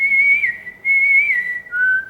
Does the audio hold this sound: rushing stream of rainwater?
no